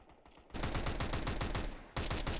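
Counter-Strike 2 gunfire in an esports match, a rapid burst of automatic shots repeating in a steady rhythm, loud and close, after a brief quieter moment, with a second burst starting near the end.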